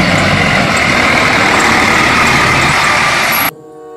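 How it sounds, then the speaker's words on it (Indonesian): A toy garbage truck plays a loud, steady engine rumble like an idling truck. It holds continuously for about three and a half seconds, then cuts off abruptly, with no voices over it. "mobil truk sampah teman-teman"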